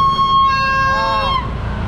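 A loud, steady electronic horn blares continuously at a village fair, holding a tonal note that wavers slightly before cutting off, leaving crowd background noise.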